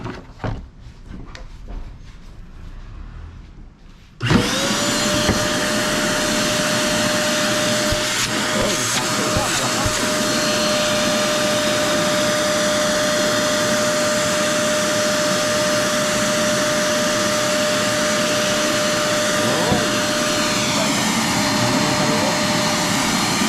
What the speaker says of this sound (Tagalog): Saksak na natin tong ating vacuum.